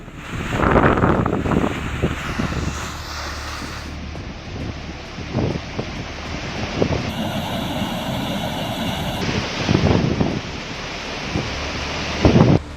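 Floodwater released from a dam at 24,000 cusecs during heavy Karnataka rains, heard as a loud continuous roar and rush of water with gusty wind buffeting the microphone and a few deep thumps, no voices.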